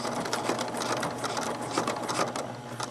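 A sewing machine runs steadily while back stitching the binding on a quilt, a continuous close whirring hum with a rapid mechanical needle rhythm and no talk.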